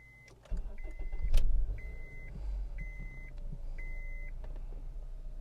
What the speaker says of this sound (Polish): Zamykam drzwi i odpalamy samochód.